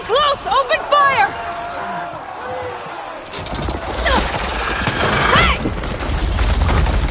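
Weapon fire and crashing impacts erupt in Horizon, a burst of booms and clatter during a fight with a huge worm-like machine, with a character's voice shouting and speaking over the top.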